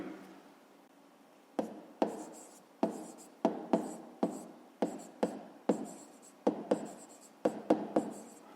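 Pen writing on notebook paper during a fifth-grade math exercise, a quiet run of short scratchy strokes and taps in uneven rhythm, close and alone.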